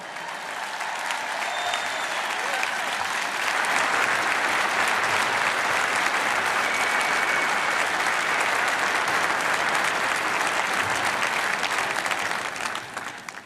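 Sustained audience applause fills a large conference hall at an American Israel Public Affairs Committee gathering, swelling steadily and holding loud and even for over ten seconds before tapering at the end, with no voices over it.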